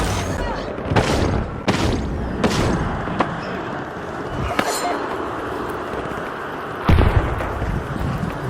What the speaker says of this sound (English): Throwing two grenades.